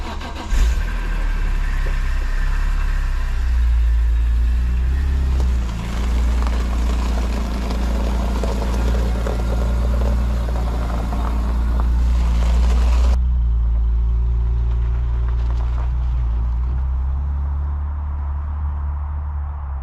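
A BMW M3 E46 engine runs steadily and loudly close by, a deep idle-like drone with a rough revving section, then continuing at a lower, more muffled level near the end.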